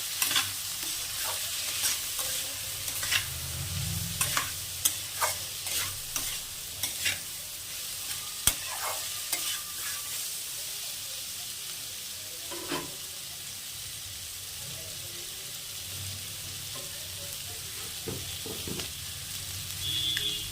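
Spoon stirring papaya and shrimp curry in a pan with a little cumin powder, scraping and knocking in a steady rhythm over a soft, continuous frying sizzle, close by with no voices.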